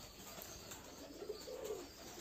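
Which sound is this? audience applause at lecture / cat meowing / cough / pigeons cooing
pigeons cooing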